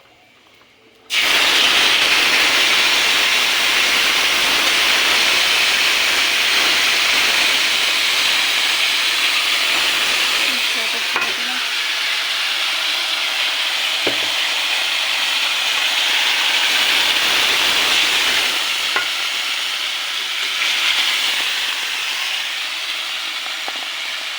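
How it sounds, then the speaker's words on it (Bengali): Spice paste hitting hot tempering oil, starting abruptly as a loud, dense hiss that keeps up steadily, nearby and with no voices, fading slightly toward the end. "গরম ফোড়নটা হয়ে গেলে তারপরে এখানে মশলাটা ঢেলে দেব"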